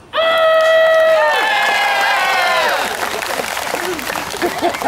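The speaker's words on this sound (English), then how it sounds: "I need everyone here to clap really loud so I don't feel so bad." An audience at a fire whip act cheers and whoops loudly, with sustained shouts giving way to scattered applause and crowd noise, close and energetic.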